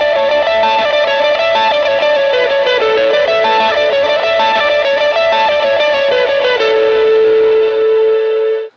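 An electric guitar plays a melodic lead line through effects with distortion and echo, sustained notes stepping through a phrase before settling on a long held tone, loud and alone.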